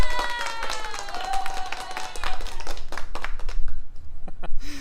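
A few people clap unevenly during a fine arts livestream, sharp separate claps at close range mixed with scattered background noise and some faint voices.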